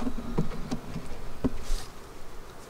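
Honey bees drone at an open hive during an inspection and feeding, a soft steady buzz with a few light taps and knocks, close by and with no talk.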